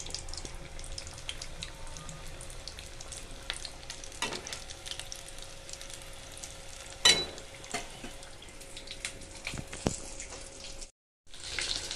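Aloo bonda and aloo bhajiya, potato fritters in batter, fry in hot oil with a soft, steady crackle and bubbling. Sharp pops of spatter break through here and there, and the sound drops out briefly near the end.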